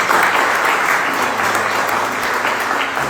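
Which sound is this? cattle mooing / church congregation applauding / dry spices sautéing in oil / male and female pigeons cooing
church congregation applauding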